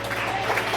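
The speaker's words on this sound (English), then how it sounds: "Big round of applause." Audience applause at a gathering, a brief burst of many hands clapping, dense and fairly loud, lasting under a second.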